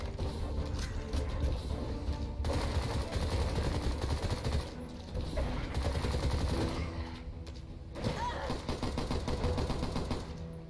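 Sustained rapid gunfire hammers away at an armored boss in the video game Bright Memory, dense bursts running almost continuously with brief lulls, loud and close amid game effects.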